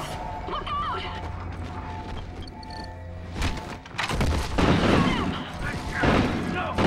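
Gunfire and booming impacts in Call of Duty Ghosts during a firefight at ODIN control, building from scattered shots into a dense, loud barrage of rapid bursts and crashes in the second half.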